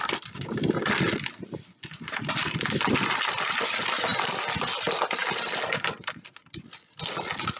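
Smashed printer pieces of plastic and glass dumped into a box make a loud, continuous clattering and rattling cascade for several seconds, with brief pauses and a final renewed pour, no talk.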